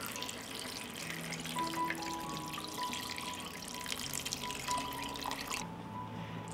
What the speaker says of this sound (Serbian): Sipat ću vode da prekrije sve sastojke.